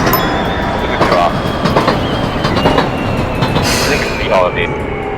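An electric train on the Takaoka line running into Takaoka station, with a steady rumble and rhythmic clatter of wheels over rail joints, brief squeals as it slows, and a voice over it.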